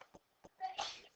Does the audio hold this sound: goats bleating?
no